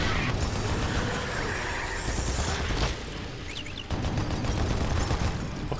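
Enemy gunfire in the shooter game Doom 3: Resurrection of Evil, heard as dense, continuous bursts of shots and mechanical clatter mixed with game effects, loud throughout with a brief dip near the middle.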